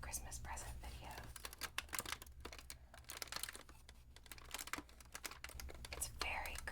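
Thin ribbon candy in a crinkly wrapper, rustled and crinkled close up in steady bursts throughout, under quiet whispering.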